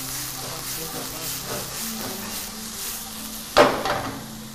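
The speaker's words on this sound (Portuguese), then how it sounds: "Para refogar o pirarucu, eu vou colocar então um pouco de cebola, 1, 2 dentinhos de alho" Onion and two cloves of garlic sautéing in a pan as a base for pirarucu fish, a steady hiss and sizzle throughout with a louder burst of frying near the end.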